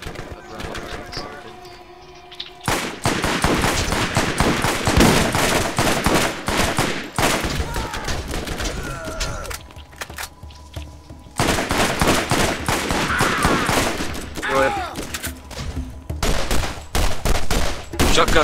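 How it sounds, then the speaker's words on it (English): Bursts of shotgun blasts and rapid gunfire from the video game Borderlands come in loud, dense volleys with short gaps, while someone talks over the action. "Shotgun to the face."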